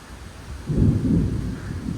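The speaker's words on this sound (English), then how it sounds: "but the thunder's getting close." Close thunder rumbles during an afternoon thunderstorm with strong winds, a deep, swelling roll that builds and lingers for over a second against steady wind and rain noise.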